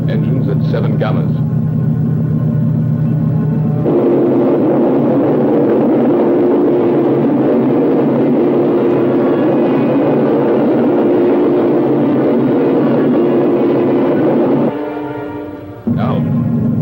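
Spaceship engines in a 1960 science-fiction film give a loud, continuous low rumble that shifts in character partway through, running the full length and cutting off near the end.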